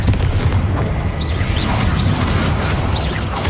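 The Confringo fire spell in Hogwarts Legacy bursts out as a loud, rumbling blast with swooshing bursts layered over a continuous low boom, alone with no talk.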